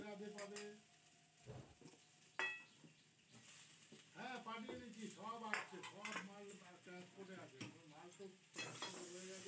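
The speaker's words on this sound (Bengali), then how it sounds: "দিয়ে ভালো করে একটু নাড়িয়ে চাড়িয়ে নিচ্ছে।" Diced tomatoes and steamed potatoes are stirred in a hot pan with fried lentils, giving soft scraping and light sizzling, with intermittent clinks and someone talking at times.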